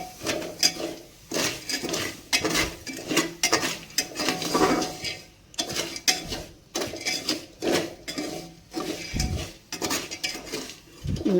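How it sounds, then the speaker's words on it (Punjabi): A metal spoon scrapes and stirs black chickpeas dry-roasting in a pressure cooker, making repeated rhythmic clattering strokes against the pot for several seconds with no talk. "ਆਪਾਂ ਚੰਗੀ ਤਰ੍ਹਾਂ ਰਲਾ ਦਿੰਨੇ ਆ"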